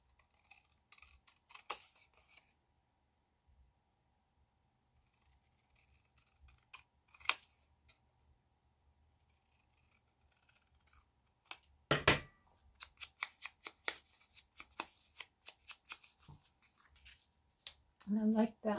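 Scissors cut paper for a junk journal envelope and ephemera, with scattered crisp snips early on and then a busier run of quick clipping cuts, quiet and close, while someone talks intermittently.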